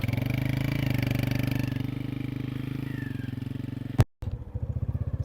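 A motorcycle engine chugs steadily after a cold start, a loud close pulsing idle that cuts out briefly with a thump and then resumes.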